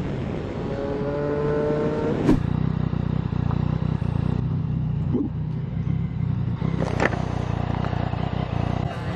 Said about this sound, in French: J'aime toujours autant ce moteur hein.